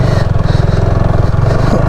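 A motorcycle on Kuakata beach churns loud and close as its rear wheel slips in the sand, the engine pulsing in a rapid, steady throb.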